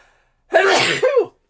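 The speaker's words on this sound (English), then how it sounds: "excuse me, sneeze." A single sudden sneeze, close and loud, with a sharp burst and a trailing exhale.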